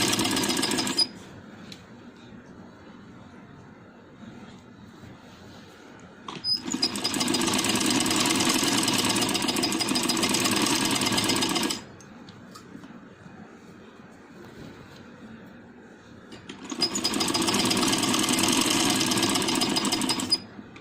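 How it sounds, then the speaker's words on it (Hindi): An electric sewing machine runs fast and steadily while stitching a straight seam along the folded edge of a frock, in two bursts of several seconds separated by short pauses, close and clear with no talking. "इसके साथ हम इसे साथ साथ सिलाई लगाएंगे सीधी"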